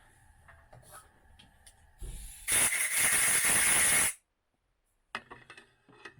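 Compressed air blasts through a 5.7 pistol reloading crimp die to clear metal shavings, a loud steady hissing rush lasting about two seconds after a short lead-in burst, then cutting off into silence before faint handling sounds.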